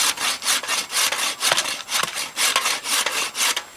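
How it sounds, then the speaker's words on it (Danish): Hand saw cutting wood for a salt trough, loud rhythmic rasping strokes back and forth in a steady even tempo, close up. "så er det savens tur."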